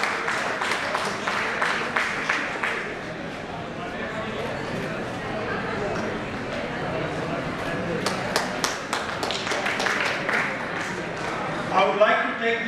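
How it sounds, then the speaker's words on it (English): An audience at a school annual day celebration applauds a team, scattered clapping swelling in bursts under a speaker's voice announcing names. "Please give them a big applause"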